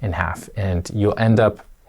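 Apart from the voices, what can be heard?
No everyday noises stand out.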